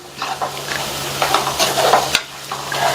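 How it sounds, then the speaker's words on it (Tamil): A spoon scrapes and stirs a spiced capsicum masala mixture in a pan, with the finely chopped capsicum sizzling in oil; stirring strokes come in repeated bursts over steady frying, close and fairly loud with no talking. "எல்லாத்தையும் நல்லா ஒன்றா மிக்ஸ் பண்ணி விட்டுக்கலாம்"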